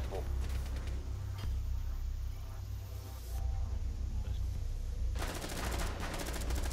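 Rapid bursts of gunfire from a Rainbow Six Siege match crackle close by in clustered volleys, growing densest and loudest near the end.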